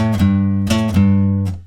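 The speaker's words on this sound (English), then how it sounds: "And then we're just going to do the 2-note lead in twice," Electric guitar plays the two-note lead-in from a song twice, loud, close and distorted, with sustained notes and a final ringing strike.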